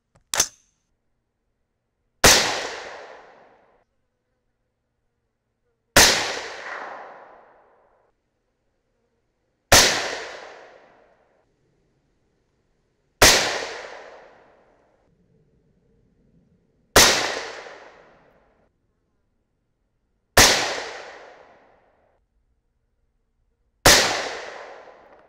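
Seven loud, sharp .308 Winchester rifle shots fired from small primer Palma brass with large flash holes. Each crack decays quickly, and the shots are evenly spaced about four seconds apart with no talking.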